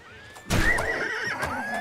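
A horse in the video game Oblivion neighs loudly with a rising, wavering whinny that starts suddenly and carries on for over a second above a faint background.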